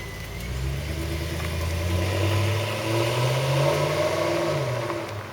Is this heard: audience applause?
no